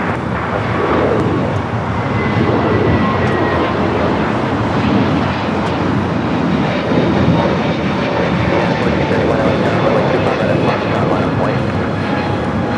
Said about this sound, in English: This is United Airlines 360 taking off to Denver, Colorado on the A321neo